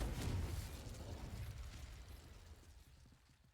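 A Confringo fire spell explodes in the wizarding game Hogwarts Legacy: a single muffled burst that fades slowly into a crackling, rumbling decay over a few seconds, fairly quiet overall.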